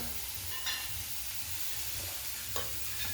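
Red chili powder and turmeric are stirred into onions frying in a pan. A faint, steady sizzle is broken by a couple of soft spoon scrapes, with no talk.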